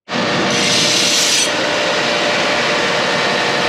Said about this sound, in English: I'm taking some burrs off so I don't cut myself.